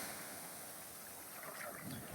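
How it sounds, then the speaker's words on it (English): Ocean waves washing onto a white sand beach in the Philippines, heard as a steady, broadband surf wash with wind noise on the microphone and no talking. "Some good waves."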